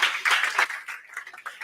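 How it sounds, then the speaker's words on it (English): An audience at a conference claps for a speaker, a short, brisk burst of applause that tapers into a few lingering claps within two seconds. "A big round of applause for Emil."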